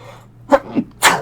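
A short sneeze burst near the mic, preceded by a couple of soft breathy sounds, over quiet background hum.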